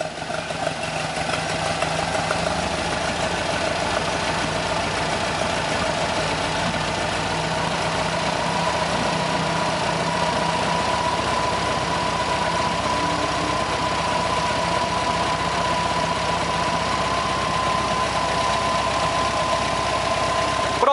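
A VW Fusca 1600 with a variable venturi carburetor idles steadily while its mixture screw is adjusted, a constant even engine hum and low rumble lasting throughout without interruption.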